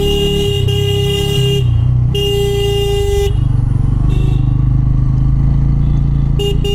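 A Bajaj Pulsar motorcycle climbs a steep mountain road near Darjeeling, its engine droning loudly and steadily while vehicle horns blare in several long blasts nearby.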